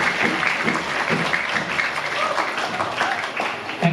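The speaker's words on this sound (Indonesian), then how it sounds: "Yuk, beri tepuk tangan kepada." An audience claps at a school seminar and poetry anthology launch, a steady stretch of applause from a seated crowd, fairly loud and unbroken.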